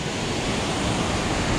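Mountain waterfall on a river rushing steadily, a loud, dense, unbroken roar of white water close by with no voices.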